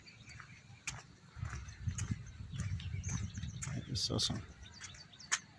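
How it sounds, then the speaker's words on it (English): Birds chirp outdoors in a quiet place with little human activity, scattered short tweets coming through faintly under a person speaking nearby. "The birds are chirping."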